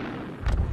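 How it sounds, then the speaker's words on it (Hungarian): An anti-tank grenade launcher fires toward a tank in a World War II setting, heard as a single short, deep blast with a booming low thump after a moment of quiet. "a töltet kirepült az ellenséges tank irányába"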